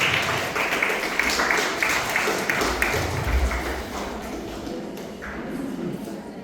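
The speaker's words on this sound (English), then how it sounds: "Let's welcome them with a huge round of applause" A school audience applauds as a team of student presenters is welcomed to the stage, steady broadband clapping spread across the room for several seconds before easing slightly toward the end.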